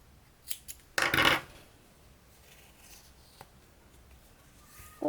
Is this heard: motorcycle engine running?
no